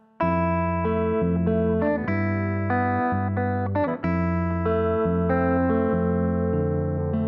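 Electric guitar plays two bars of the bridge from a song, with sustained chords ringing through effects and reverb. The chord changes come at a steady pace, loud and clear with no talking.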